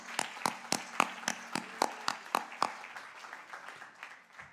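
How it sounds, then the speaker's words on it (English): A few scattered hand claps ring out from an audience at a cultural programme, irregular and moderately close, thinning out and fading toward the end with no talk over them. "Please give them a big round of applause."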